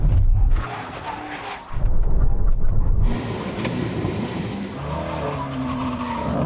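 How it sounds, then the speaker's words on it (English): A car brakes hard with both feet on the pedal during a brake test, producing loud tire squeal and skidding bursts with engine roar, close and intense, easing into a steadier rumble. "stay here for the brake test. Full braking on all 2 feet."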